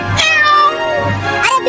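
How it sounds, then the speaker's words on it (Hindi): A close, loud cartoon cat meows in a long drawn-out cry, then gives a second shorter meow. "अरे बिल्ली हट जा, तू ये क्या कर रही है?"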